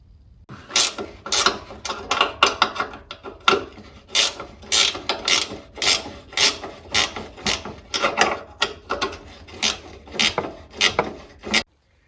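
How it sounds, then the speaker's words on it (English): Rapid ratcheting on the footrest bolts of a 1968 Wheel Horse Raider 9 garden tractor, a steady run of close, crisp clicking strokes lasting about twelve seconds before stopping abruptly. "you need to also take the footrest off first, which is a couple of bolts there, two up here and one underneath here"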